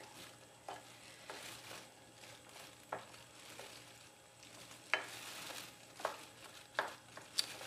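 Tuna sandwich filling with egg being stirred by hand in a bowl, a soft steady scraping with sharper clinks and taps of the utensil growing more frequent toward the end, close and fairly quiet with no talking.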